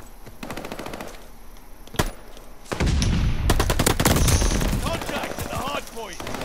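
Video game gunfire rattles at a contested hard point: a few isolated shots, then sustained close automatic bursts that dominate the second half, with a voice occasionally calling out over the shooting.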